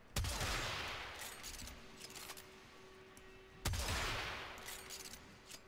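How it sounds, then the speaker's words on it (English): Two grenade launches from an alternate-fire weapon in the video game Warframe, each a sharp loud blast followed by a long fading rumble and debris rattle, spaced a few seconds apart. "So this one launches like a grenade."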